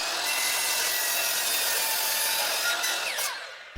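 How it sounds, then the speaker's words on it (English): A miter saw trims the end of a live edge wood board for a charcuterie board, a loud, steady cut held for over three seconds before the whine tapers off near the end. "I then cleaned up the opposite end with the miter saw."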